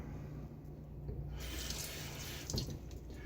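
Water runs steadily from a bathroom tap during a wet shave, a quiet continuous hiss and splash that swells slightly partway through, with no talking.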